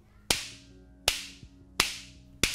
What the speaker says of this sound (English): That sound you're hearing is actually a mini sonic boom.